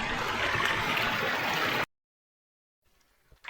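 Water rushes steadily in a stream for nearly two seconds, loud and close, then cuts to silence before faint noise returns near the end.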